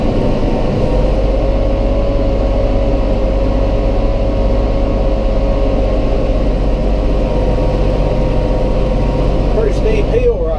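A Massey Ferguson 4710 tractor climbs a steep hill in high range and first gear at about 2,000 RPM, its engine a loud, steady low drone throughout.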